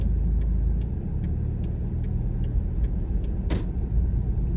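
A manual car rolling off slowly in first gear, with a low steady engine rumble heard from inside the cabin, a faint regular ticking, and a short hiss near the end.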